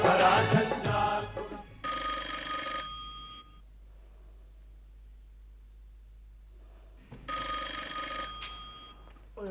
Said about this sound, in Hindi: टेलीफोन तो सुन लिया करो यार।